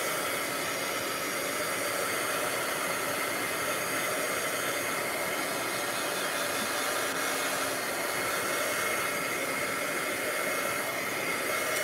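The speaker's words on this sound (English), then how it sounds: "Now let's hit this with our heat tool quick." A heat tool blowing on a craft project gives a loud, steady, close hiss that runs unbroken from start to finish with no talking.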